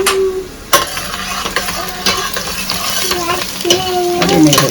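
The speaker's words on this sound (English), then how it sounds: "She fries onions perfectly." Onions frying in a pan for a fish curry at home, with a steady sizzle under sharp scrapes and clatters of stirring, close and fairly loud throughout.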